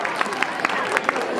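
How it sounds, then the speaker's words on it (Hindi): An audience claps for the host at a school event, a brief burst of close, scattered claps with a murmur of crowd noise behind. "जोरदार तालियां ऐसे संचालक के लिए"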